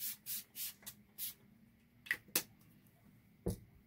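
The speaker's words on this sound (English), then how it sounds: "And I'm also going to spray this." Several short hissing bursts of Palo Santo clearing spray from a small pump bottle, close and fairly loud, followed by a few faint handling taps and knocks, with no talking.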